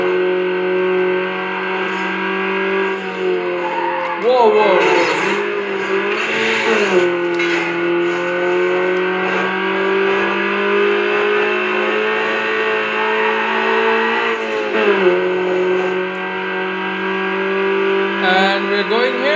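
Racing car engine in Need for Speed Underground, a beginner street car run at full speed in a race, droning loud and steady with harmonic whine, shifting pitch with gear changes and brief swoops around mid-run.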